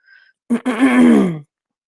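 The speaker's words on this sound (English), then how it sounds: "pardon me for clearing my throat every 5 minutes" A single harsh throat clearing, a short burst then a longer rasping, groaning push, close and fairly loud, with quiet before it.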